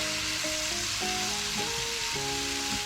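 Small diced potatoes sauté in a frying pan with garlic and shallots, a steady close sizzle running beneath a tonal melody throughout, with no voices.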